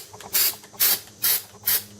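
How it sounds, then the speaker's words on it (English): Rust-Oleum LeakSeal hisses from an aerosol can onto a plastic wheelbarrow in four short, even bursts of close, bright spray with brief pauses between them. "This is the Rustoluim leak seal. Shaking it up. I'm going to spray it."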